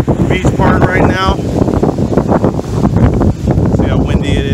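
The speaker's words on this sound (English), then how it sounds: "See how windy it is." Strong wind buffets the microphone at a beach park by a pier after Hurricane Michael, with high water nearby; a steady, loud rushing roar runs throughout under a person talking.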